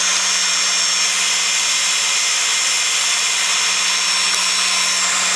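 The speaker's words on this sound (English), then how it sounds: "I've just got a little boring bar here, just sticking out just long enough to get that job done" A small boring bar on a Greenlee shaper spindle being machined cuts an internal bore on a lathe, giving a steady, even high-pitched hiss and whir with a constant low hum, close and unbroken throughout.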